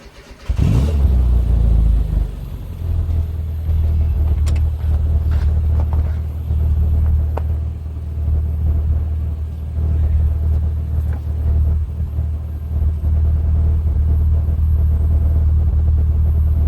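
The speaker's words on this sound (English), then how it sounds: "So we'll start the car up" A classic Mini's engine cranks and catches, then settles into a steady, deep idle rumble close by, running continuously with slight variations and no talk over it.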